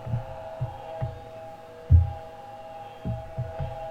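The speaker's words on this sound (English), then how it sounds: "That hum is really nice." A Galaxy's Edge legacy lightsaber with the Jedi Temple Guard sound idles in a steady, low electronic hum, with soft thumps pulsing irregularly underneath.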